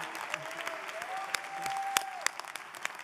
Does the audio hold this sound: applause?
yes